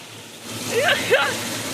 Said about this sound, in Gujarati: ધબધબાટી વરસાદ